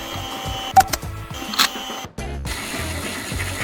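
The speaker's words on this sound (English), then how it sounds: "Borax Powder Filling Machine." Lego Technic borax powder filling machine in a toy slime factory, its plastic gears whirring and ratcheting steadily with a few sharp clicks and a brief pause, close and clear with no voices.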